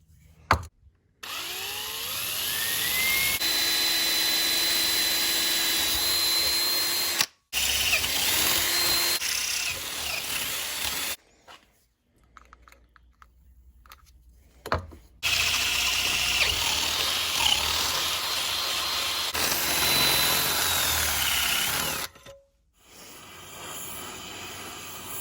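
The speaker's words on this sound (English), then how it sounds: "A small bit as a pilot bit, and I'll step bit my way up to save my bits to cut down on the heat" A drill bores metal, first with a small pilot bit and then a step bit lubricated with penetrating oil, in long whirring runs broken by short pauses. Bursts of grinding and squealing rise and fall as the bit bites.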